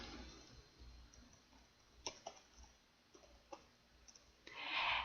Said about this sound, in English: I click Add Item